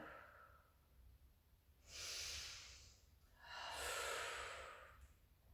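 During a Pilates exercise, two soft, breathy exhales follow one another, each a slow, airy whoosh that swells and fades, close and quiet in a calm room.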